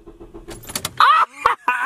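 A car engine being cranked and failing to catch, with starter bursts and sputters after a few soft clicks, loud and close inside the vehicle.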